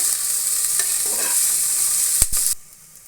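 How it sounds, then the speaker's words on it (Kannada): Ingredients for egg and country chicken sambar frying and being stirred in a pan, a loud steady sizzle with a few scraping stirs, cutting off abruptly near the end to leave quiet. "ಫ್ರೈ ಮಾಡ್ಕೊಳ್ಳೋಣ ಚೆನ್ನಾಗಿ ಫ್ರೈ ಮಾಡ್ಕೊಳ್ಳಿ ಇಷ್ಟು ಹಾಕ್ಬಿಟ್ಟು"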